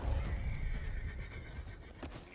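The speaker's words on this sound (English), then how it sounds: "My horse is getting wild tonight." Horse in Red Dead Redemption 2 neighing and whinnying loudly at close range, with clip-clop hoofbeats under it and no talk.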